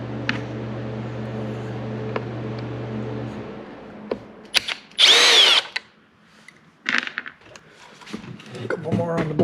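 A power driver fitted with a T20 Torx bit buzzes in a few short bursts as it backs out screws from the cover of a Ryobi string trimmer, with a steady hum and small clinks of parts around it.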